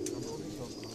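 A high-flyer pigeon kept by a Pakistani fancier gives a single short, low coo, close and clear, lasting about a second.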